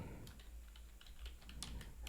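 Quiet, close clatter of fingers typing on a computer keyboard, irregular bursts of key clicks over a low room hum, with no talking.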